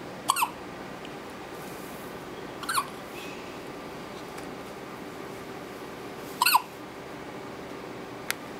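A new squeaky toy gives three short, sharp squeaks spaced a few seconds apart, fairly close and clear over quiet room noise, with no talking.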